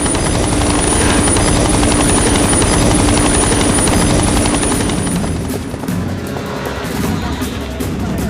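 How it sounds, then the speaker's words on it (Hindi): A loud, continuous helicopter roar with dense rotor chop, steady throughout with a slight dip near the end. "हेलीकॉप्टर की आवाज से कहीं वो तुम्हारी बहन को नुकसान न पहुंचाए।"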